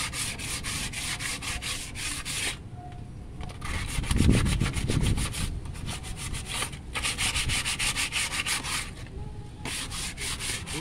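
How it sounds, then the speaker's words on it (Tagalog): A brake shoe is scrubbed by hand to sand off rust, giving steady, close, rasping back-and-forth strokes that run continuously with brief pauses. "Dininisan natin to para maging maayos, matanggal yung kalakalawang."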